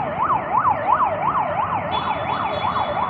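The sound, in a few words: ambulance siren passing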